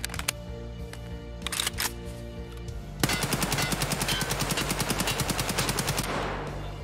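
AKM rifle fire in the video game Escape From Tarkov, a few scattered single shots followed by a long rapid automatic burst, loud and close.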